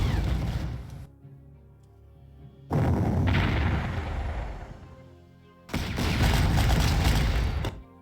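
Artillery fire in the Panzer Corps World War II strategy game, three loud, broad booming blasts, each rumbling for a couple of seconds and separated by quieter gaps.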